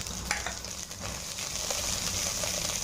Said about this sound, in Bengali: পেঁয়াজটাকে লাল করে ভেজে নেব।